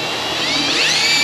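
A power drill whines steadily and rises slightly in pitch while boring through the plexi-coated body of an EZGO TXT golf cart, a close, loud, brief burst with no talking.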